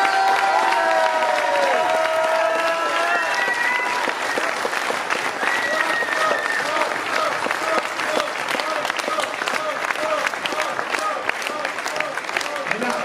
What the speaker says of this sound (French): Alors je vous propose qu'on les applaudisse encore une fois très très très fort.